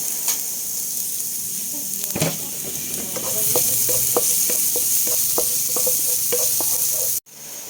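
Ingredients sizzle steadily in a hot pan for potcherong manok, with a run of regular scraping stirs in the middle and a sudden drop near the end; no one talks.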